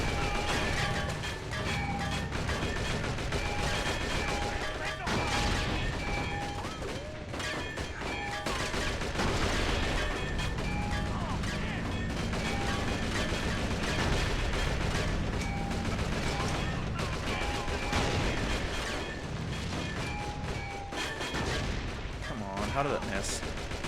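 Weapons fire echoes through a mission of The Outfit video game, with gunshots and mechanical clanking layered over a busy, continuous battle soundtrack. The din stays loud and dense throughout, with occasional tonal music or vehicle hum underneath.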